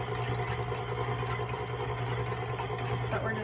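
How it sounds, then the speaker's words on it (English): An electric stand mixer runs steadily as sugar is added tablespoon by tablespoon for an angel food cake, giving a continuous motor whir at an even level throughout. "now I'm getting ready to start this mixer"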